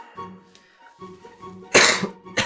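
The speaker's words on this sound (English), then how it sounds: "I apologise, I've got a cough." One person coughs twice, a harsh burst followed by a shorter one, close and loud after a few quiet moments of low voice.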